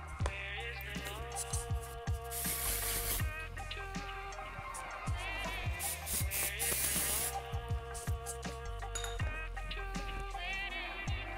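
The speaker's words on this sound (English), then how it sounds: "use some texture spray." An Aiir Professional texture spray is misted onto hair while styling a messy high twisted bun, two soft hissing bursts over a backdrop of steady music.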